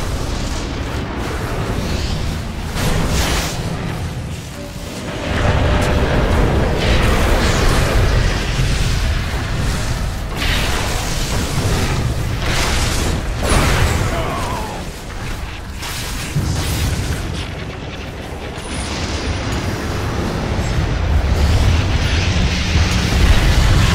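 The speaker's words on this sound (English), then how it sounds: "Radiant's bottom barracks are under attack." Dota 2 battle sounds as the Radiant bottom barracks come under attack: repeated booming blasts, bursts and whooshes layered densely over a steady loud game din, with no speech.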